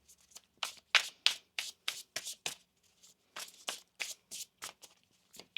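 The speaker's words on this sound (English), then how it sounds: "One more shuffle here." Tarot cards are shuffled in quick, crisp riffles and taps, a rhythmic run of short papery bursts close up in a quiet room.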